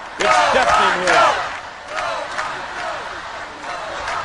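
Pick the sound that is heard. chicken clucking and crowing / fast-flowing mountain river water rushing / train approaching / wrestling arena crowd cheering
wrestling arena crowd cheering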